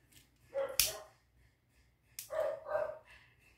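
A dog barks twice, a short sharp bark followed by a longer, louder one after a pause, moderately close and heard alone against a quiet background.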